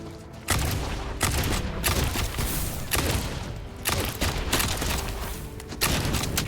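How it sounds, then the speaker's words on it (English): Rapid bursts of fire-gun shooting in the game Wizard With a Gun, with loud repeated volleys starting and stopping in clusters and dense crackling impacts throughout. "Wait, are they shooting fire bullets at me?"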